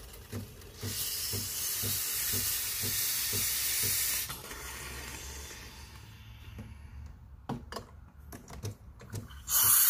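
Loud hissing blast of steam from a Breville espresso machine's steam wand being purged, a sustained broadband rush lasting about four seconds, then fading to quieter clicks and brief bursts, ending with another short hiss.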